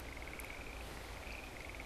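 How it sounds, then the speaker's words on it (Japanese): A steady chorus of frogs trilling and croaking in the distance, heard by a cyclist near Tsuwano, Japan, in early May, a constant pulsing drone with faint higher chirps over a soft background hiss. "カエルの声がすごいな。"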